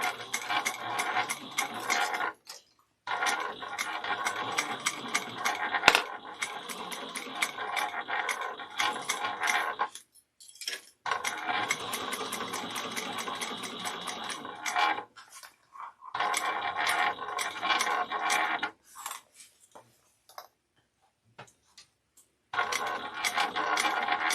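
A sewing machine runs in bursts of rapid, even mechanical clatter while top stitching a Kandu bag, each run lasting several seconds and broken by short pauses.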